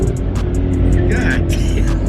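Inside a 1000+ hp twin-turbo Mustang GT under hard acceleration, a loud, continuous engine roar fills the cabin with a deep, dense rumble and faint higher whines layered above it.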